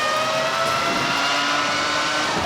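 An open-wheel race car engine from the iRacing Arcade video game drones at high revs, a steady, loud, buzzy whine that continues unbroken and heard alone.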